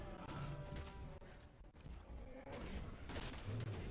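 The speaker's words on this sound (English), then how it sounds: "Stop shooting him, Gert." Gunfire in Resident Evil 6, rendered as a dense run of sharp, loud game shots and crashing impacts throughout, with broadband bursts clustered near the start and end, under a busy game soundtrack and a speaking voice.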